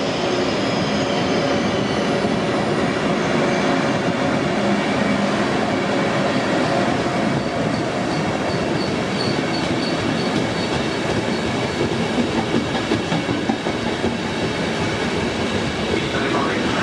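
A Trenitalia regional train rumbles steadily through a station with wheel noise and faint squealing, a continuous loud roar with a voice faintly mixed in.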